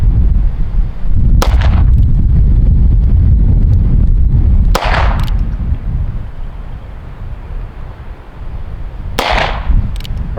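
Three loud revolver shots ring out from a Heritage Barkeep 2-inch revolver at an outdoor range, widely spaced and each sharp and booming, over steady wind rumble against the microphone.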